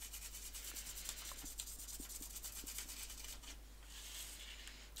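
A brush rubs excess colouring off wood veneer with soft, repeated scratchy strokes. Close and quiet, over a steady low hum, with no talk.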